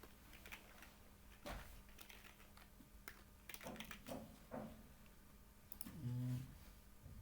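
Typing on a computer keyboard while entering SQL commands, a scattered run of soft, close clicks with short pauses between bursts, fairly quiet against a low background hum.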